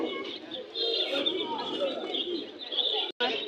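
Fancy pigeons coo and murmur amid busy pigeon market bustle in Bangladesh, with voices and chatter in the background throughout.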